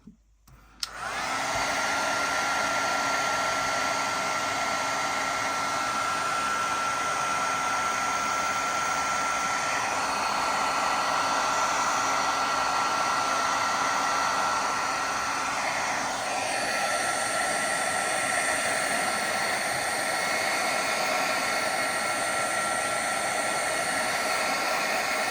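A heat tool blows a steady, loud whooshing hiss while drying Distress Oxide ink on dark cardstock, running close and unbroken for the whole stretch with a slight shift in tone partway through.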